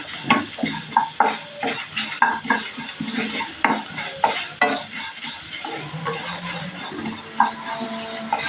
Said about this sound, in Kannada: ಚೆನ್ನಾಗಿ ಫ್ರೈ ಮಾಡಬೇಕು ಇದೆಲ್ಲ